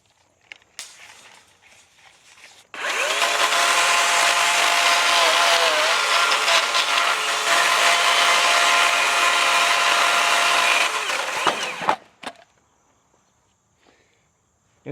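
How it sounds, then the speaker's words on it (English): DeWalt 60-volt battery chainsaw with a 20-inch bar milling a utility pole, a brief spin-up followed by about nine seconds of loud, steady high-pitched cutting whine close by, then cutting off abruptly into quiet with a few knocks. "This is a DeWalt 60-volt battery operated chainsaw. Has a 20-inch bar on it,"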